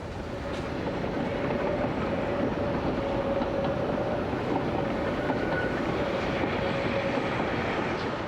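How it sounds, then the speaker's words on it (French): Train pulled by five locomotives in a row in France, heard as a steady loud rumbling roar with a faint sustained tone throughout, no voices. "5 locomotives en ligne, unique en France."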